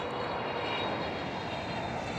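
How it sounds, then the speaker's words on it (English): A KLM Boeing 777 passing by at Schiphol Amsterdam, a dense continuous jet engine roar at steady, fairly loud level throughout the short stretch, with no talking. "this KLM 777 is passing by"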